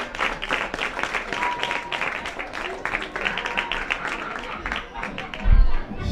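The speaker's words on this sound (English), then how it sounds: "Huge applause." Crowd applause and cheering at a schools under-13 boys' T10 tapeball cricket match in Barima-Waini, Guyana, a steady wash of clapping across the whole stretch with a commentator talking over it.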